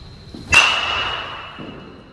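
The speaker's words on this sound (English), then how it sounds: "The more of a ping you get out of this bat" A single sharp metallic crack of a 2022 Louisville Slugger Omaha BBCOR aluminum bat striking a baseball, with a bright ringing ping that fades slowly over the next second.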